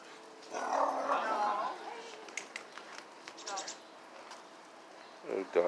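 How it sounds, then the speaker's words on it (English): A small, excited dog on a city walk through Boston gives a few short, lively barks and yaps nearby, with brief bursts spread across a background of quiet street ambience. "Little doggy right there."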